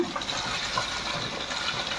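Water gushing steadily as an electric motor pump fills a tank, a continuous, fairly loud broadband rush of flowing water with no voices.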